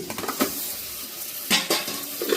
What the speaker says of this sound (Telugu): ఇందులో చికెన్ వేస్తున్నానండి